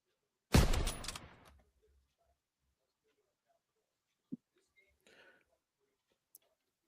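Gunshot sound effect played as a livestream alert: one loud, close blast with a decaying tail, followed by faint scattered clicks and rustles.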